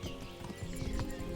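Horse hooves clip-clop in a quick, even rhythm, close and clear over a dense game-like background in Kingdom Come: Deliverance.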